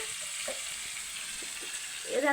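Ginger and tomato-onion paste being stirred into a chicken curry in a pan, with a soft, steady sizzle and faint scraping of the spoon, fairly quiet and without talk.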